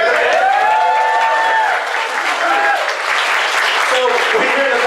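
Audience at an anime convention panel for a dub cast reunion breaks into steady, loud applause and cheering that fills the room, with voices and whoops rising over the clapping throughout.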